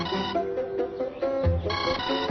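A mobile phone plays a melodic ringtone, a run of bright electronic notes with a short pause partway through, sounding indoors and clear, with no one speaking over it.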